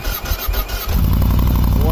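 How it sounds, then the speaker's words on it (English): A motorcycle fitted with an Akrapovic exhaust system cranks and fires up, settling into a loud, steady rumbling idle close by, with a voice speaking over the start. "Just wanted to show you the sound from the Akrapovic exhaust system. So just turn on the bike here."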